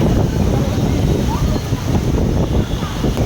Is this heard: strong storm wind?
yes